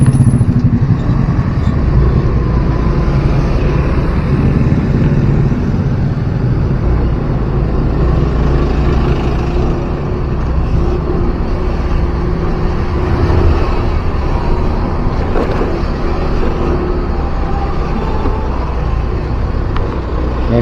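Traffic sits in a heavy jam on the narrow Malalak road between Bukittinggi and Padang as a bus from Payakumbuh passes close by. Loud, continuous low engine rumble fills the whole stretch, with only slight shifts in intensity.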